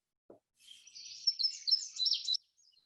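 A song sparrow sings one clear bright phrase of trills and buzzy notes, close and alone against silence, after a brief soft click.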